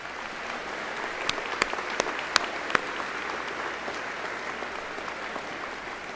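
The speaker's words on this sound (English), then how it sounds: "Let's offer another round of applause to Don." Indoor audience at a 2014 college commencement ceremony applauding, a steady dense wash of clapping with a few sharper individual claps standing out, sustained throughout.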